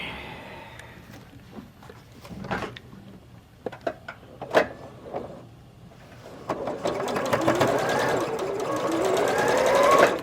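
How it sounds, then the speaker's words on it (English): A sewing machine stitches a quilt block onto its background fabric, first in short faint bursts with handling knocks, then in a steadier, louder whirring run close by. "And then we're going to sew it on."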